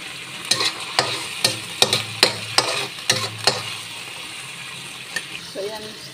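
Curry leaves fry in a pan with a steady sizzle while a utensil stirs them, scraping in a regular run of sharp strokes that fade to occasional scrapes toward the end.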